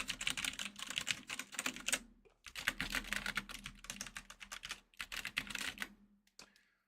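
Someone types on a new mechanical keyboard in quick, clacky bursts, the keystrokes dense and close, with brief pauses between runs and a few isolated taps at the end.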